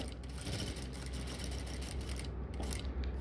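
A sewing machine stitching along a marked line on a formal trouser pocket, running as a steady, dense mechanical whir that holds without a break throughout.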